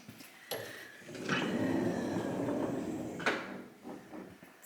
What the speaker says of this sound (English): It has this cool fancy sliding door.